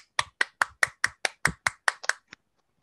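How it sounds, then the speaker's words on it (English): One person claps close to the microphone during an online Linux meetup, about ten crisp, evenly spaced claps in quick succession, ending with a quieter final clap and then silence. "Round of applause."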